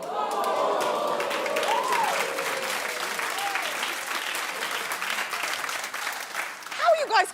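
Studio audience on a daytime talk show claps and cheers in a loose, sustained wash, with a voice talking over the clapping throughout and a brief louder whoop near the end.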